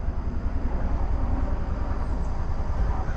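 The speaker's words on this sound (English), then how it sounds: "Oh, it's a helicopter." A large military helicopter flies overhead, a continuous low rumbling drone that holds steady and fairly loud throughout, with no voices.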